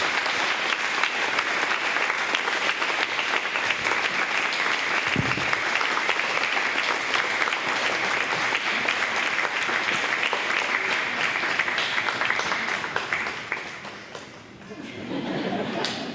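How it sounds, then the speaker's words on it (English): County fair queen contest audience gives a long, loud round of applause as the queen takes her final walk, dense continuous clapping with some crowd murmur, easing briefly near the end. "Give her a round of applause."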